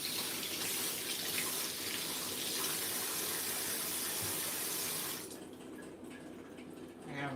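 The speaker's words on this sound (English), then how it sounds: "I gotta rinse my hand off." A running tap pours steadily while a hand is rinsed under it, a close, full gush. The flow drops to a softer trickle toward the end.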